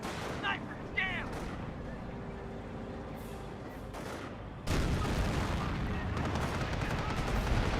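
A Calliope rocket barrage in the video game Company of Heroes, with rapid whooshing launches followed by a heavy, sustained wall of explosions that fills the second half. A commentator talks faintly under it.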